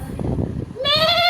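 A person imitates a goat's bleat during a group party game, giving one loud, wavering nasal bleat right after a stretch of excited talking.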